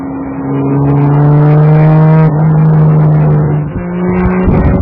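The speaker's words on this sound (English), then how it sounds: "listening to the sound of its 200 horses charging out of the exhaust" A vintage 200-horsepower Jaguar engine roars loud and close through its exhaust at a steady high idle, with a deep throaty drone that briefly dips before rising again.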